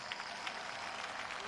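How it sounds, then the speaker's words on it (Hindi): Crowd applause at a political rally, a dense continuous wash of clapping from many people, fairly distant and even throughout the short stretch. "हम बिलावल के नाम पे तालियां बजाएंगे"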